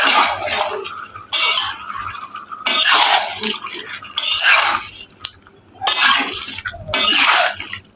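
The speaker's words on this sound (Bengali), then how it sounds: "গোশটা হালকা ফুটে গেছে, এখন একটু ভালো করে মিশিয়ে নিচ্ছি" Mutton namkeen gosht being stirred in a pot, with repeated bursts of metal spoon scraping and clinking against the pot and wet, sizzling sounds between strokes, close and fairly loud, with no talk.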